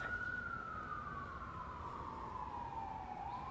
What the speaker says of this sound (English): I'm so sorry for the ambulance.